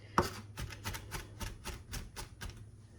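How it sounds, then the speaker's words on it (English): A knife minces garlic on a cutting board in a quick, even series of about a dozen crisp taps, close and fairly quiet, with no voices. "you can keep going to mince garlic"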